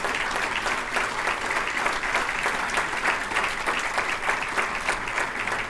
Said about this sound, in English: Please give Jan Vogel a big round of applause.